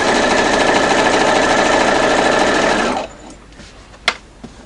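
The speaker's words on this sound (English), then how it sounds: "So I will sew a few stitches at the top" A domestic sewing machine runs fast and steady, stitching quilt blocks pieced from scrap fabric, a loud continuous whirring hum that stops after about three seconds, followed by a couple of small clicks.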